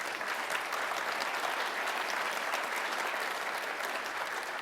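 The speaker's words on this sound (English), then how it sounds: "So give it a round of applause." A conference audience claps steadily in a sustained burst of applause, dense and even, with no talking over it.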